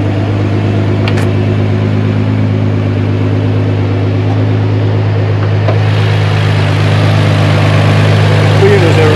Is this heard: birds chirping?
no